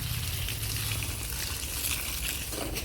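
Water pours steadily onto the soil around a newly planted jackfruit sapling, a continuous close splashing gush with no breaks.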